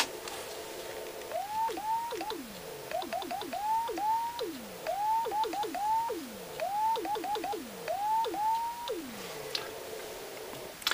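A chirpy CW Morse signal from a 14-part homebrew 28 MHz transceiver, heard on an FT817 receiver tuned to 28.060 MHz: short sliding tones keyed in quick groups over faint background hiss, fairly quiet and with no talking.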